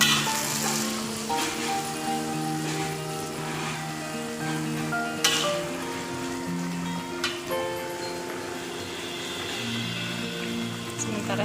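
Food sizzling and being stirred in a pan while kapurung is cooked at home, a steady frying hiss with scraping under continuous background music and harmonic tones.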